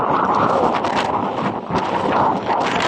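Strong wind blusters across the microphone near the sea on a rainy day, a loud, continuous roar with gusty swells and no voices.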